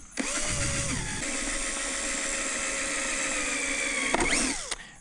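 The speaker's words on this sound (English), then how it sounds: "my trusty Bosch drill here. And I got to see if I can make those holes a little bigger" A Bosch power drill bores holes into a brand-new plastic bucket, giving a steady, loud whine that runs almost the whole time, with a brief rev at the start and end.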